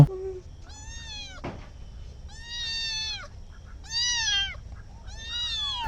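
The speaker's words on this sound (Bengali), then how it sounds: "আমার বিড়ালও চলে আসছে গরু দেখার জন্য" A village cat meows near cattle on a hot day: four drawn-out, rising-and-falling calls spaced a second or so apart, close and clear over a faint, low background hum.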